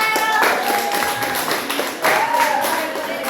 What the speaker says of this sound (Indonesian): tepuk tangan untuk Rahel